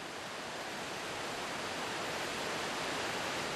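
Broad steady rush of the full-flowing Pitarque river in Spain's Maestrazgo, a constant dense roar of water with no breaks, close and even throughout.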